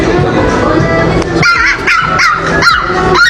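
Small dog barking angrily at a man, a series of sharp, close barks in quick succession over a busy background, with a few yips and whimpers among them.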